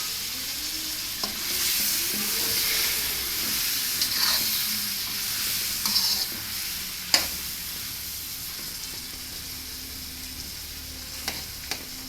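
Chicken and skinned, halved tomatoes sizzle and fry in a karahi at a Karachi street food stall, a steady broadband hiss with occasional stirring clatters and a sharp knock near the middle, loud and close with no talking.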